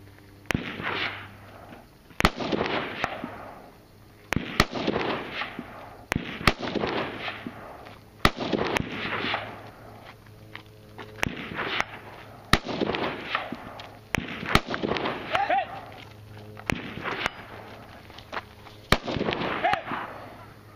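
Gunshots at the Surefire WMC 2016 shooting competition, sharp reports cracking out about every one to two seconds across the stretch, loud and fairly close, with rolling outdoor echo and a low steady hum underneath.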